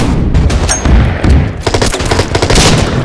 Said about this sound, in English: let's see if we can, once again, open fire on the CA guns